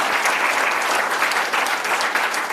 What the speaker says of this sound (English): if we could get a little round of applause for the coaches up here.